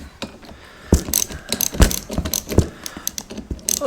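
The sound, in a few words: 3/8 drive ratchet set being handled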